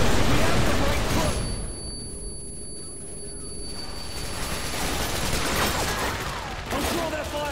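Gunfire in Call of Duty Modern Warfare 2, rapid bursts and scattered shots among battle noise, with a lull in the middle before firing builds again, mixed with in-game voices.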